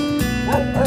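A short burst of two or three dog barks close by, with a low background hum.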